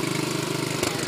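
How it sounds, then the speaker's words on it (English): A John Deere 210 lawn tractor engine idles low and close by, a loud, steady, rapid chugging pulse with no voices. "Put on low idle."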